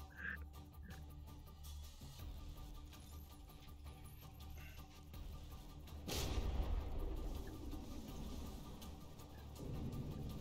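Battleships fire an artillery volley in the From the Depths naval combat game, with distant muffled booms and rumbling, then a heavier low blast midway that swells into a sustained roar of gunfire.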